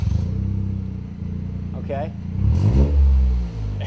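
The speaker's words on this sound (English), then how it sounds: "Exhaust number 2. Let's see what this one sounds like." Toyota GR Yaris exhaust with a straight-through rear silencer, its engine note swelling from a steady drone into a louder, deeper rev toward the end, close by, with a brief spoken word over it.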